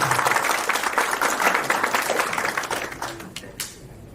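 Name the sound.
audience applause for Yusufbhai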